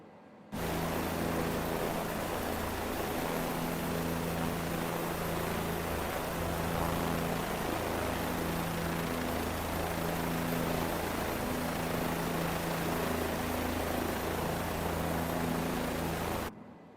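A Bell 407 helicopter in Microsoft Flight Simulator 2020 spins up for takeoff, a loud, steady broadband rotor and turbine roar with a faint rhythmic blade thump holding evenly throughout.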